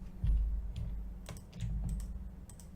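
Computer keyboard keys pressed, Ctrl+Enter then Delete, while working in photo editing software; a few light, close clicks and taps over a low steady hum.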